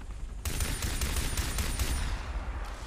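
Gunfire in the video game Far Cry 3: after a short quiet moment, a loud sustained burst of rapid automatic shots rattles on steadily for over two seconds.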